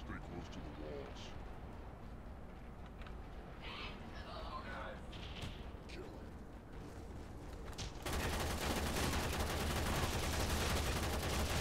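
Gunfire in the video game Warframe, with scattered shots and bursts during a fight. The last few seconds turn into loud, dense, continuous firing.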